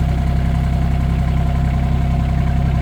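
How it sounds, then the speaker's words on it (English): A battery-operated pump moves diesel fuel into a tractor, giving off a loud, steady motor drone with a regular low pulse that stays even throughout, with no talk. "It's not a very fast pump, but it sure works good."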